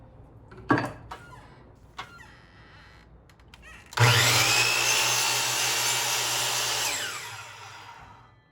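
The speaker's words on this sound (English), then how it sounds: "Because the miter saw blade is curved, it's really hard to get a straight cut with a miter saw" A few sharp knocks of handling wood, then a miter saw spins up loudly and cuts into a board for a half lap joint, a sustained close whine for about three seconds before winding down.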